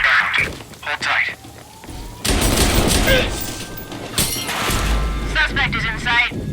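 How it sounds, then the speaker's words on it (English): Gunfire in the Watch Dogs video game, with broadband bursts and rattling volleys across the clip over a layer of game sound and radio chatter, loud and close. "we've got gunfire here"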